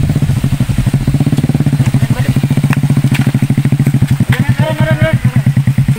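A motorcycle engine chugs close by in a loud, regular, rapid pulsing rhythm, with a rattly edge, that rises slightly toward the end.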